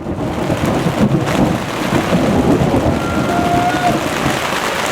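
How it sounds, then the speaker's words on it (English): Steady heavy rain pours outside during a thunderstorm at a desert festival camp, with low rumbling thunder rolling continuously underneath, loud and close, with no voices. "It's raining outside. You can hear that. It's also thunder and lightning outside."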